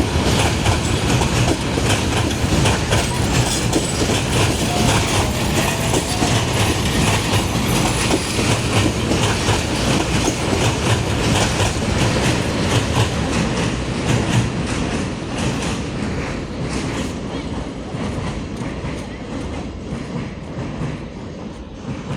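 The Burimari Express train crosses the Rahmatla bridge with a loud, continuous rumble and clatter of wheels on rails, close at first and slowly fading as it passes.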